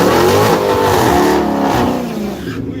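A manual-transmission Ford Mustang revs hard at a dragstrip during small-tire street racing, its engine loud and close in a continuous, throaty roar that eases slightly near the end.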